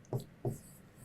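Two short, distinct strokes as the letter B is written on a board during a probability lesson, each a quick scratchy mark separated by a brief pause, close and fairly quiet with no talking.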